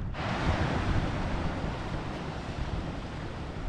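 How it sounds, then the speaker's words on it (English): Surf rolls onto the shore at Navarre Beach as a steady, broad wash of breaking waves with some wind rumble, close and continuous without any talking. "All right, here is Navarre Beach."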